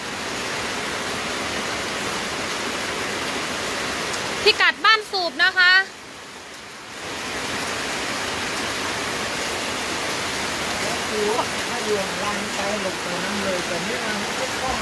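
Floodwater from a burst weir rushes through a house and parked cars in Ban Sub, Nam Suai, Mueang Loei, Thailand, a steady broadband roar running throughout, with a voice speaking briefly near the start.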